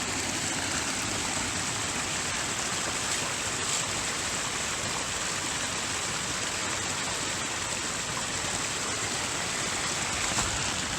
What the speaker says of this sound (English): Just a bunch of little waterfalls.